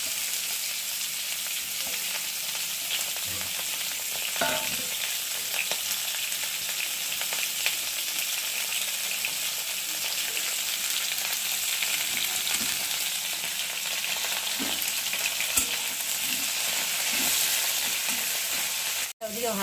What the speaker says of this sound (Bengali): আর এখন উচ্ছেগুলো দিয়ে ভালো করে ভেজে নেবে।